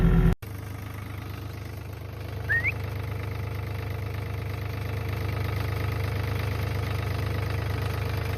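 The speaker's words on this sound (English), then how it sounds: "running around this field with the tractor and baling up the hay" A tractor engine runs steadily while baling hay in a field, a close, loud, even drone with no voices.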